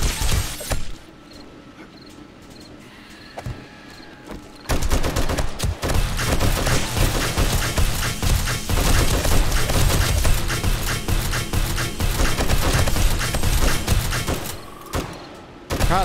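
Turret gunfire rattles nonstop in the survival game 7 Days To Die during a blood moon horde attack on a base with spinning blades. It comes as dense, loud, rapid bursts that fill most of the clip.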